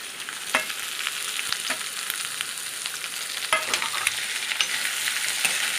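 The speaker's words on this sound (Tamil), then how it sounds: "நல்லா செவக்க வறுக்கணும் இதை பீர்க்கங்காவை அதில் போடுறோம்" Ridge gourd fries and is stirred in a pan, giving a steady soft sizzle broken by occasional scraping clinks of a spatula. No one talks.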